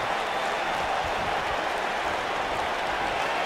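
Steady, dense roar of an arena crowd cheering and applauding during a WWE 2K19 wrestling match, loud and continuous without a break.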